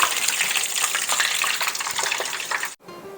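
Pepperoni pizza rolls fry in a pot of oil, giving a loud, bubbling, crackling sizzle that runs steadily and then cuts off abruptly near the end, leaving faint quiet.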